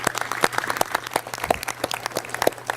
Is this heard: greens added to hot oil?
no